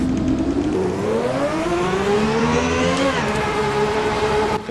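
A Ferrari 640 Formula One car in the Assetto Corsa racing game pulls away in first gear, its loud, close engine whine climbing steadily in pitch, dipping briefly, then holding near-constant without any talking.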